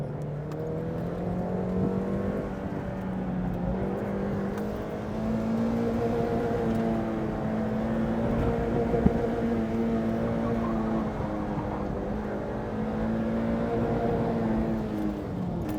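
Mazda Miata driving an autocross course, its engine holding a steady drone that rises and falls through turns, heard continuously from inside the car with no talk.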